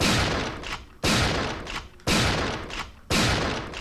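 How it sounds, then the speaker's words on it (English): Custom M37 pump shotgun in Resident Evil 3 firing four loud, close blasts about one second apart, each a sharp boom trailing off into a short decay before the next shot. "Custom M37, equipped with a special reload system and is effective for close range battle"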